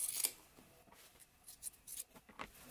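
Scissors trimming the placket of a fabric anorak jacket: a series of faint, crisp snips, one sharper cut at the start and several softer ones later, heard alone at close range.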